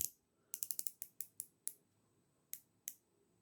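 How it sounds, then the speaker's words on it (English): Turning the 120-click ratchet bezel of a Watchdives WD-1965 dive watch makes crisp, close clicks: a quick burst in a row, then a few slower, spaced single clicks in quiet. "if you listen to there, it's 120 click. It's got a really, really good ratchet."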